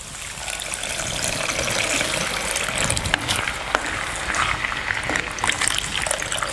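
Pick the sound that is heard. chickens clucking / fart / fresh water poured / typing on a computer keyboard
fresh water poured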